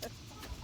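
Soft, low clucking from chickens, a few brief murmured notes close by over a quiet background.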